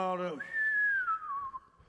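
A short speaking voice gives way to a single clear whistled note that slides slowly downward and fades.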